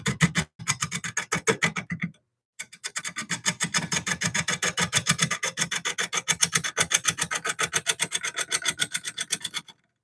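A turning tool cuts into a wonky olive wood bowl spinning on a lathe, giving loud, rapid rhythmic scraping that pauses briefly near the start and then runs on steadily, with no voices.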